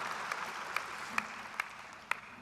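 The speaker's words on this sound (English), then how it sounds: "Is that David clapping?" A few sparse, separate claps ring out one at a time at a public memorial service in Winnipeg, roughly every half second, over a quiet room murmur.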